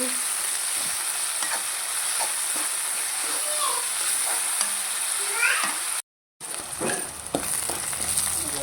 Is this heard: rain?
no